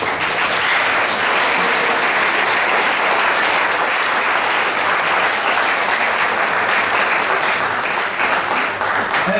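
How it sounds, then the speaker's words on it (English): Big round of applause for the participants at a national auto tech fest, a dense, loud, sustained wash of crowd clapping that holds steady for the whole stretch, with no voices over it. "Let's have a big round of applause for all the participants."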